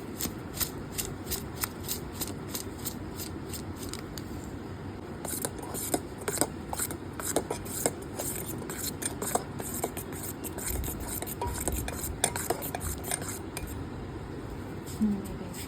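Raw chicken pieces worked by hand with arrowroot, salt, pepper, garam masala and breadcrumbs for chicken fingers, giving a steady close wet squishing and rubbing with small irregular clicks, no talking.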